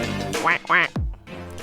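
Two or three nasal, honking duck quacks, loud and close, separated by short pauses, with no other sound behind them.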